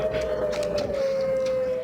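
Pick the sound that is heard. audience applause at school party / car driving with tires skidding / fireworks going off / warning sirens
warning sirens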